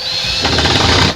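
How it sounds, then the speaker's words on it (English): A power screwdriver drives in a final screw, its motor whining loudly up close and then chattering under load in one short burst that stops abruptly. "let's put the final few screws in"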